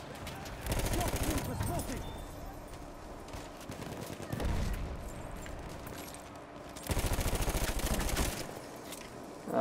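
Bursts of rapid automatic weapon fire from Battlefield 1 come in three loud volleys, with a rattling, recoiling cadence over background battlefield noise.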